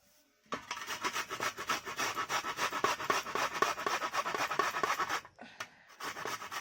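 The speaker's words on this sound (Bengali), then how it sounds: "এইভাবে আমি দুটো পেঁয়াজ ঘষে নেব ঘষা দিয়ে" Onions rubbed back and forth on a hand grater while making pakoras, giving a steady run of close, rhythmic rasping strokes that stop briefly near the end before resuming.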